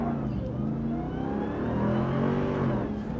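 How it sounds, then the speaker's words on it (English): A 2021 RAM 1500 TRX pickup truck launches at full throttle on a wet road, its engine roaring steadily and loudly with rising revs throughout, close and continuous. "So I'm gonna press launch now, and then my foot is hard on the brake, apply full throttle, let go of the brake."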